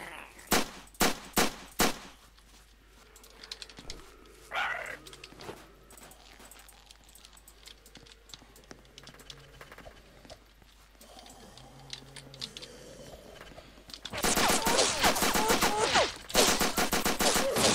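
Gunfire in the Roblox game Apocalypse Rising: a quick volley of sharp close shots, then quieter clicks and shuffling, before a loud sustained burst of rapid fire that closes out the stretch.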